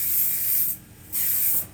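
Two long hissing bursts of Aqua Net hairspray from a blue can, separated by a short pause, loud and close with no talking.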